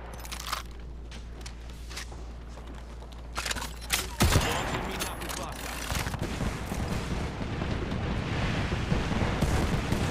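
Rapid bursts of smart bullet gunfire in the shooter game Apex Legends, crackling and booming loudly over a dense layer of continuous game noise, with a sharp heavy blast near the middle.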